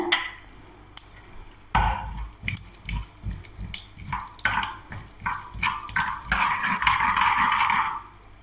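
Mustard seeds pop and crackle in hot oil in quick irregular bursts while cooking elephant foot yam curry, building into a steady sizzle toward the end.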